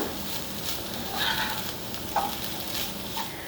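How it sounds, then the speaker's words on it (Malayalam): Cooked chicken being stirred into a chicken cutlet mixture in a pan, giving a soft steady sizzle with faint scraping strokes and a brief clink of the spoon, close and moderately quiet with no talk. "ഇനി നമ്മൾ വേവിച്ച് വെച്ചിരിക്കുന്ന ചിക്കൻ ഇതിലേക്ക് ചേർത്ത് കൊടുക്കാം ഇതിവിടെ ചേർത്ത് നന്നായിട്ടൊന്ന് ഇളക്കി കൊടുക്കാം"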